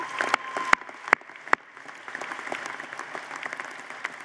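A commencement audience at Davenport University claps for introduced leaders, a moderate steady patter of hands with a few louder sharp claps standing out near the start.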